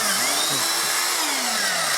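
A power drill backs screws out of a floor, its motor whining loud and close, pitch rising and falling as the load changes, running continuously with no pause.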